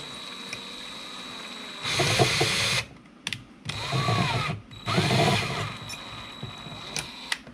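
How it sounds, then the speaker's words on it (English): Power drill boring holes in a paintball box magazine for a Tippmann A5 build, three loud sustained whirring bursts of a few seconds each with short pauses and small knocks between them, close by. "Drill out those holes."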